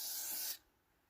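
A short, close hiss of spray aimed onto a Peugeot 505 door, lasting about half a second before cutting off to quiet.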